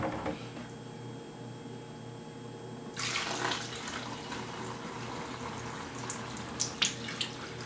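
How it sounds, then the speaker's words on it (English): Liquid for a homemade aphid spray with essential oils is strained and poured into a container, a steady close trickle that swells into a fuller splashing pour partway through, with a few small clinks near the end. "now we just strain it all out. And then now I'm going to pop it into my container here."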